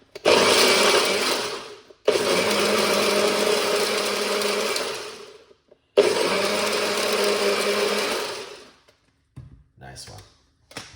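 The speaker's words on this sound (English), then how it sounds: "You don't want to blend it too long." A blender whirs loudly blending pomegranate seeds into juice, running in three steady bursts of about two to four seconds each with brief pauses between, then a few faint clicks and handling sounds at the end.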